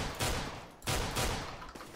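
Counter-Strike: Global Offensive deathmatch gunfire: two loud, close bursts of rifle shots roughly a second apart, each trailing off briefly, with no talking.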